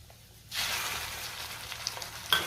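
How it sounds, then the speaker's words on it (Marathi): Ground spice paste (vaatan) hits hot oil for a village-style spicy brinjal curry, bursting into a loud, steady sizzle after a quiet half second, with faint stirring clicks near the end. "आणि चांगलं तेल सुटेपर्यंत वाटण परतून घ्यायचे"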